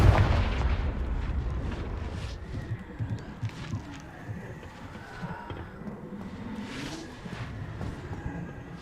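Confringo fire spell explosions in the Hogwarts Legacy video game, a steady rumble of blasts and impacts with repeated sharp bursts over nearly nine seconds of continuous battle noise.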